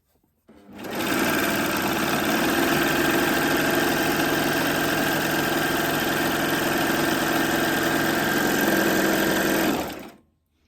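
A Babylock Acclaim sewing machine stitches merino wool in one steady, continuous run of close, even motor whir that lasts nearly ten seconds before stopping.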